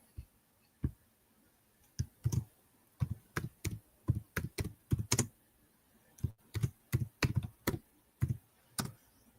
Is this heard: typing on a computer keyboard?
yes